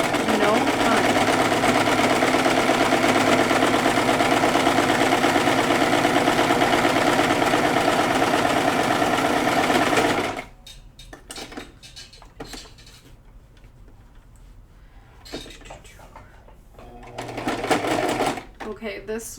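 A sewing machine stitches pleated fabric, running in a loud, steady mechanical whir for about ten seconds, then stopping for quieter handling clicks and a short final burst of stitching.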